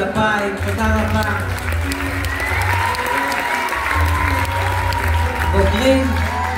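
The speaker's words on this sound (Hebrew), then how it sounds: "מחיאות כפיים, תודה רבה." Steady audience applause at a graduation ceremony in Ashdod, sustained clapping filling the hall with voices and talk mixed in throughout.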